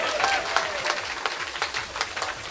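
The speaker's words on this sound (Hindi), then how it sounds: "ताली बजाइए, एनर्जी मिलती है" An audience at a poetry recital claps in quick, uneven bursts, mixed with voices and crowd murmur throughout a short stretch.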